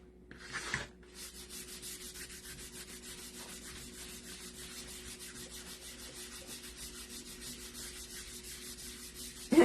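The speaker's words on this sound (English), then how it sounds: "Now I'm going to basically buff it off or rub it in" Wax is rubbed and buffed into chalk-pasted wood by hand, a steady, quiet, rhythmic scrubbing of repeated strokes. A brief louder handling noise comes near the start and a bump at the very end.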